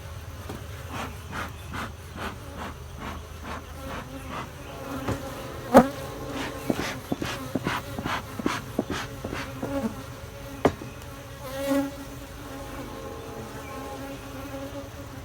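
Honeybees at an active hive give off a dense, continuous buzzing hum close to the listener, with a few scattered knocks and rubbing sounds over it.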